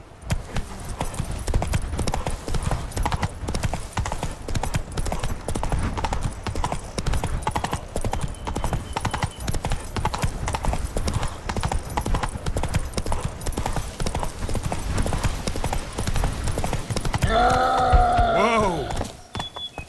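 Roach, a horse in The Witcher 3, gallops in a steady, rapid clip-clop of hooves that runs loud and close throughout, then a brief whinny-like sound near the end.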